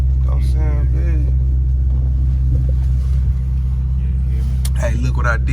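Car engine running after an injector change, a steady low rumble heard from inside the vehicle, with someone talking over it throughout.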